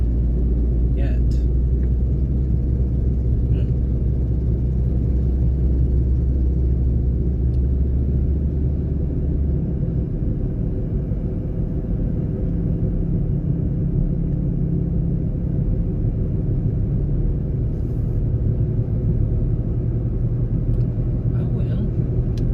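A car drives along a road, heard from inside the cabin as a steady low rumble and road noise that runs throughout, with a person talking over it.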